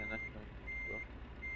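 Truck reversing alarm in Euro Truck Simulator 2, a steady high electronic beep repeating at regular intervals over a low engine rumble, heard from an external view.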